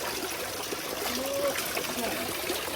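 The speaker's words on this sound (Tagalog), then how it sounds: "Ito palang tubig dyan, yan yung overflow nung" Steady trickling overflow water in a duck enclosure runs continuously, a close, constant splashing flow with a faint tonal whine drifting through it.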